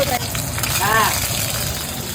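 Green chilies dropped into hot mustard oil with nigella seeds in a village kitchen wok sizzle loudly and steadily, a close, bright crackle with a brief spoon scrape in the middle.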